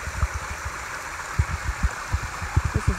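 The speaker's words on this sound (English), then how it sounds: "This is the second waterfall we've passed in the last few minutes." A waterfall and water running down an Appalachian Trail hiking path make a steady rushing hiss, with irregular low splashes and thumps close by.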